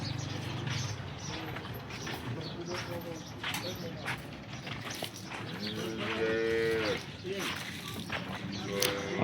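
Local Banaskantha cows, some pregnant, low with several drawn-out moos in the middle and near the end, heard over quiet farmyard background with some bird cooing.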